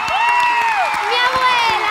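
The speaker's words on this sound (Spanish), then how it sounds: "Señoras y señores, fuerte el aplauso para Inés, Inesita." Theatre audience at a children's stage show applauding and cheering, with children's shouts and whoops ringing over the clapping, lively and fairly close.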